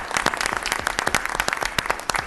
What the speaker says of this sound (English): just give you a bit of a round of applause